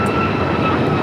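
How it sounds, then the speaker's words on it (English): A United Airlines Boeing 737 MAX 9 takes off at LAX, its jet engines giving a brief steady roar at moderate loudness with a faint whine on top. "And this is United Airlines 1571 taking off to Houston Intercontinental on the MAX 9."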